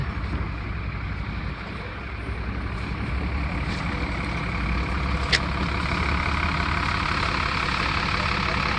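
Steady diesel drone and road rumble from inside a 2003 Nova Bus LFS city bus on Montreal's 470 route, a continuous, fairly loud engine hum with one brief faint click, no talking.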